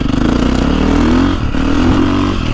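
A 2024 Beta 450RX motocross bike engine in a video game, a loud close continuous drone that rises and falls slightly with throttle, with a brief dip midway and no talk.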